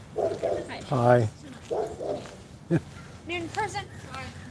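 A dog nearby lets out several yips and short barks in scattered bursts, mixed with people talking outdoors during a livestream.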